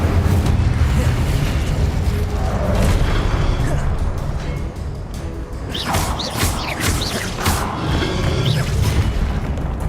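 Spell combat in Hogwarts Legacy with the Incendio fire spell: loud, dense booming bursts and crackling blasts that roll on continuously, with brief shouted voices mixed in.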